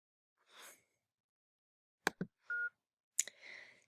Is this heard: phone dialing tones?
yes